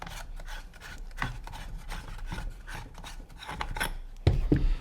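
A plastic barrel shroud is unscrewed from a Valken V-Tac SW-1 paintball gun, with close, continuous gritty rubbing and scraping of threads, ending in a louder clack of handling.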